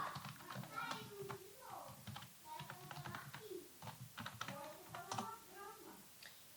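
Typing on a computer keyboard while writing JavaScript code for HTML error messages, soft irregular key taps running under continuous nearby talk.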